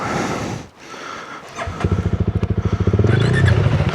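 Dirt bikes ride off-road on a trail, with a Honda CRF300L and KTM 390 Enduro R, engines rumbling close and loud, one settling into a pulsing idle-like chug that grows stronger.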